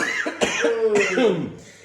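A person coughs a few times indoors, short harsh bursts close to the microphone, with voices around them in a casual French conversation.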